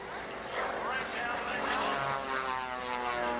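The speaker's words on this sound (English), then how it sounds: "He's got 450 horsepower. It's a Pratt & Whitney in there. And it really hauls that big old airplane around." A 450-horsepower Pratt & Whitney radial engine on a large propeller airplane at an air show drones steadily at a distance, a continuous throbbing roar under an announcer's commentary.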